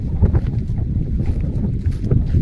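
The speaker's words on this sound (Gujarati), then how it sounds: "આજે એકચ્યુઅલી આ પવન બહુ છે, ભૂકા કાઢે એવો પવન." Strong gusty wind outdoors by a wheat field buffets the microphone with a loud, low, uneven rumble that surges and dips throughout.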